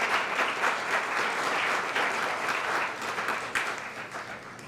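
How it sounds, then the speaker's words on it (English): An audience applauding at a scholarship reception, a steady roomful of clapping heard up close that holds for several seconds and then begins to thin out, with no voices over it. "So how about you have a round of applause for that."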